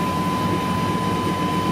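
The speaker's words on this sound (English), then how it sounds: "Idling just a little rough." A Chevrolet K1500 truck engine with newly upgraded injectors idles slightly rough, a steady low rumble heard up close and fairly loud, with no voices.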